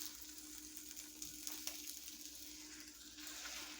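An egg fries in a pan after being flipped, giving a steady soft sizzle with a few faint scrapes and taps of a spatula, heard close and alone.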